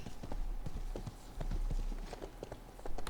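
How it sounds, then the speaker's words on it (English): Horse hooves clip-clop in the online role-playing game Rift, a steady run of close hoofbeats carrying on through the whole stretch with no talking over it. "Trying to mount my horse."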